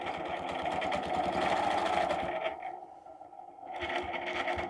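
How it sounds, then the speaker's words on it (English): A sewing machine stitches across fabric with a continuous buzzing motor hum and rapid needle pulses, close and steady, dipping briefly before resuming with no talking. "Now let's stitch across."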